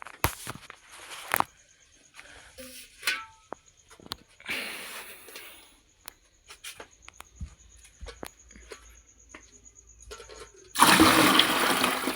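Water pours and splashes out of a cooking pot in uneven bursts with scattered clanks, ending in a loud rushing gush near the end.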